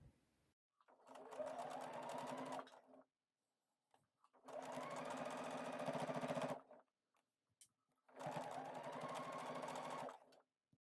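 A sewing machine stitches tape onto a faux suede top in three slow, steady bursts of a few seconds each, with short quiet pauses between runs, close and clear with no talking.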